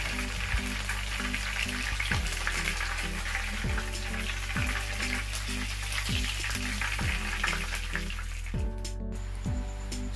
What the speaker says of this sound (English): So right here we add our butter to our pot. We get that butter to melt.